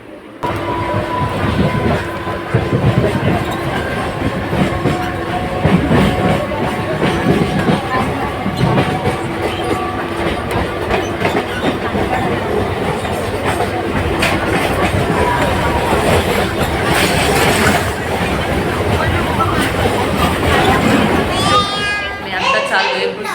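Moving passenger train heard from inside a carriage, with steady loud rumble and clatter filling the whole stretch, a brief squeal near the end, and people talking throughout.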